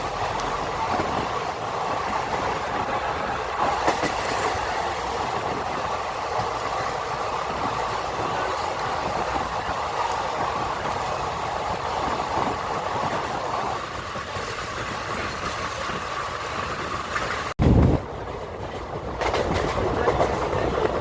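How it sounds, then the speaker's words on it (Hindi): Somnath Ahmedabad Intercity Express train running through Chandlodiya at about 80 to 90 km/h, with a loud, steady rumble and rattle of the coaches heard from on board and a brief sharp burst near the end. "ये जा रहा है चांदलोड़िया, जिसे हमारी ट्रेन अपनी फुल या फिर कह सकते हैं 80 to 90 km/h की स्पीड में स्किप कर रही है।"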